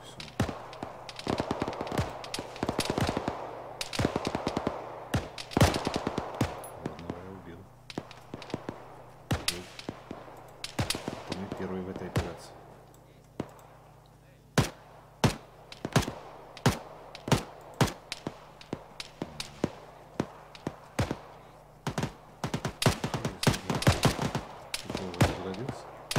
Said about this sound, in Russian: Я видел тут выстрелы и все.